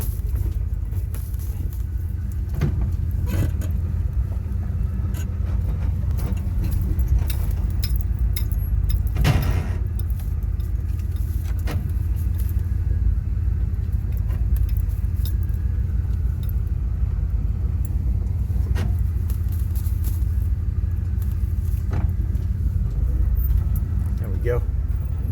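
A truck crawls off-road in four low, first gear, its engine a steady low rumble throughout with occasional clunks and rattles, while someone talks over it.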